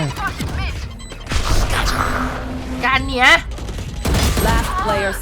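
Bursts of Valorant gunfire crack and rattle beneath excited, overlapping talk, with a few louder blasts near the end.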